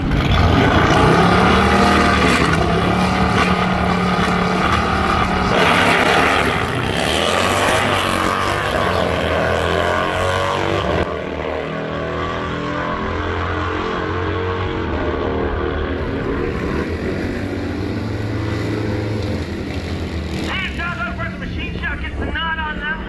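Street-type motorcycles drag racing at Byron Dragway, engines roaring loud and continuous with revving and a passing drone that eases slightly midway, wind buffeting the microphone throughout.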